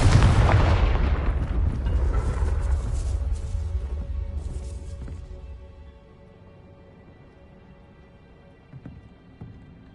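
The Confringo fire spell in Hogwarts Legacy bursts with a loud, booming blast and then a long rumbling decay that fades over several seconds, ending in a few faint knocks.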